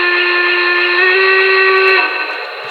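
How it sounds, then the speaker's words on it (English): A Norfolk and Western Y6B steam whistle, played by a Paragon 2 sound decoder, blows one loud, sustained chime-like tone. The pitch steps slightly partway through, then the tone softens as it trails off near the end. "Another Y6B type, or another, Norfolk and Western whistle"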